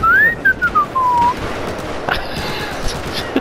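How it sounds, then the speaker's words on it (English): A person whistles a single sliding tune, rising then gliding downward for about a second, close and clear, followed by scattered laughter-like breaths, small knocks and background noise. "I fell because you're whistling."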